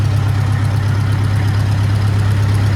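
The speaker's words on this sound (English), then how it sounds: "So we're gonna let it run on gasoline for a little bit" An IH Farmall 400 gas-start diesel tractor engine idles on gasoline, a steady, loud, low throbbing rumble with a constant chug and no break throughout.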